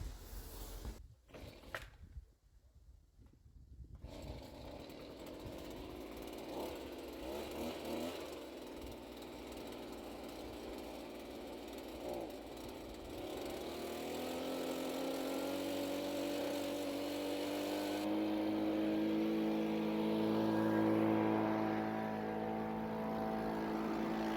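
An old plow truck with a 7.5 liter engine cranks with a few sputtering bursts, catches and settles into a steady running rumble that grows louder and rougher toward the end.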